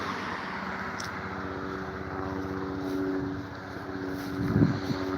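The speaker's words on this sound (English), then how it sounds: "They got the FBI helicopter on us." Steady low droning rotor and engine of a police helicopter circling over an outdoor building, constant and moderately loud with no talk.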